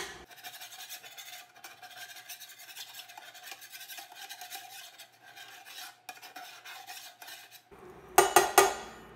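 A metal utensil scrapes bacon bits across a well-seasoned carbon steel skillet on a portable induction cooktop, a close, continuous rasping scrape followed by a few sharp metallic knocks near the end.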